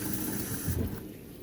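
Water rinsing a Jordan 13 Black Cat sneaker in a sink, a steady close rush of running water that drops off near the end.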